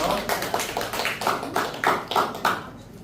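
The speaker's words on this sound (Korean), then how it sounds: "뜨거 박수 좀 부탁드릴게요" An audience at an arts gathering claps in a steady, rhythmic beat, about two to three sharp claps per second, fairly close and even, just before a sacheolga song is performed.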